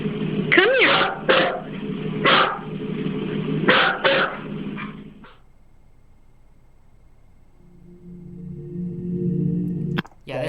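A dog lets out several loud, close bursts of barking and yelping in quick succession, then goes quiet, leaving a low background rumble and a sharp knock near the end.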